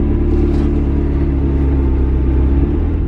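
A McLaren sports car drives along with a steady, loud low engine rumble and road noise, holding an even drone with slight revving throughout.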